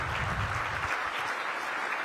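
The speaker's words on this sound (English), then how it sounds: "Let's give the U.S. Conference a big round of applause." Conference attendees at a mayors' winter meeting plenary give a round of applause, a brief burst of dense clapping that fades out within about two seconds.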